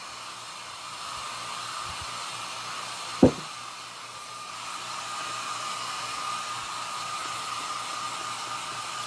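A hair dryer on a cool setting blows steadily at a nutcracker craft, a constant airy whoosh close by, broken once by a short sharp knock around the middle.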